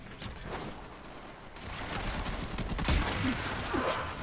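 Video game gunfire from Warframe: a rapid burst of shots blends with mechanical clatter and rumbling noise, fairly quiet and dense over a few seconds.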